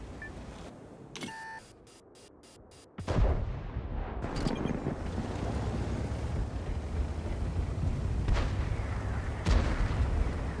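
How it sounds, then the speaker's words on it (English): Heavy artillery fire in a video game: after a few electronic beeps, a sudden loud boom opens into a sustained, dense rumble of shelling, with sharper blasts breaking through the din. "Heavy artillery is ready."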